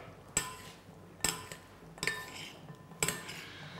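Metal utensils clink sharply against a bowl while a salad is being mixed, four distinct knocks spaced roughly a second apart in a quiet kitchen.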